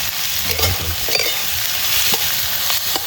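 Onions sizzle in hot oil with cumin, mustard seeds and curry leaves, cooked over a wood-fired village stove, with steady frying hiss and a few spoon-stirring scrapes close by.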